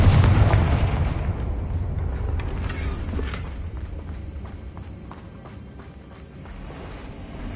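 A Confringo fire spell explodes in the video game Hogwarts Legacy, a loud booming blast at the start that rumbles and decays over several seconds with scattered crackling after.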